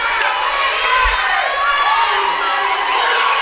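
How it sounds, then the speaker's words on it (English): Indoor college women's basketball crowd at a conference final roaring and shouting in protest at the referees: a dense, loud, continuous wall of yelling voices and whoops with no pauses. "the crowd letting these referees have it. They're not happy with that call"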